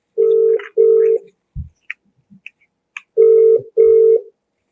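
A telephone ringback tone pulses on an unanswered call: two long beeps, a pause filled with faint clicks, then two more long beeps, clear and close with no talking.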